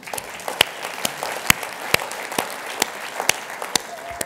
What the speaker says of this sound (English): Well, that deserves a round of applause.